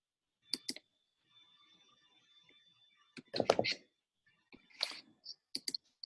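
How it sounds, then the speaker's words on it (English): A computer mouse clicking a few times, sharp close clicks in small clusters separated by quiet gaps, with some soft handling thumps and a faint tone in between. "let me click on it"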